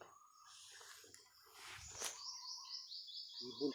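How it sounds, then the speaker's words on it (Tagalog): A high, repeated bird call trills in a rapid series of short notes in a forest, with rustling and faint insect-like chirps around it. "Ibon."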